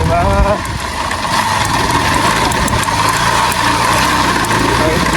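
A heavy motorbike that will not pull in second gear labours uphill with a loud, close, rough drone throughout, and a voice talks over it briefly.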